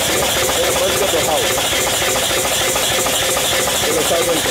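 A running 20 HP twin-cylinder V-type steam engine driving a 12.5 kVA generator, chugging and hissing loudly and steadily throughout.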